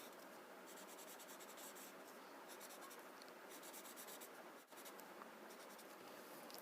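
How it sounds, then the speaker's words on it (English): Graphite pencil shading across the grid on a Zentangle tile, a continuous soft scratchy rustle of rapid back-and-forth strokes, very close but faint, with a brief pause near the end. "I'm shading here on the grid. Adding graphite to the grid."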